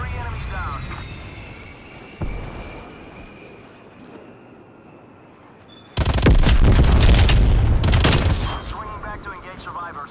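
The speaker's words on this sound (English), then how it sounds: "Enemy spy plane inbound." An aircraft drones steadily overhead during a Call of Duty match on the Diesel map, joined midway by loud, dense bursts of close gunfire that fade again near the end.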